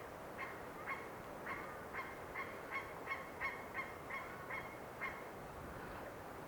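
A goose-like bird at a wildwood park gives a run of about a dozen honking calls in a quick rhythm, faint and somewhat distant, with no talk.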